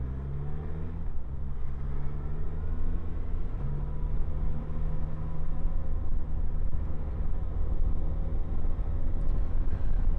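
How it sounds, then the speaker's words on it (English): A car approaches and passes close by while a rider waits on a 2024 Suzuki GSX-S1000GX motorcycle idling at the roadside, a steady low engine rumble with a rising, broadening whoosh as the car draws near and goes by. "Car coming, so we'll just hang on and wait for him."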